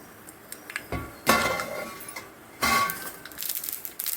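Mustard seeds splutter and pop in hot oil in a pan while making coconut chutney, sharp crackling bursts close up, separated by quieter stretches with scattered pops.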